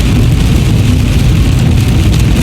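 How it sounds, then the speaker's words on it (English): Heavy pouring rain drums steadily on a car while it drives along a highway, a loud continuous wash of rain and road noise with no talking. "Is I'm out here in the pouring rain."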